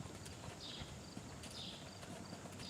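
A horse's hooves clip-clop steadily at the walk in an arena during a Level 1 dressage test, the footfalls faint and distant under a constant low background hiss.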